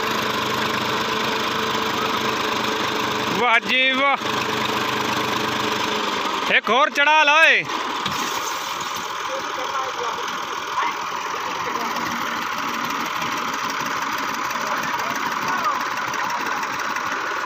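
A Massey tractor engine idles and chugs steadily throughout, with people talking loudly over it and a couple of brief bursts of louder vocal noise.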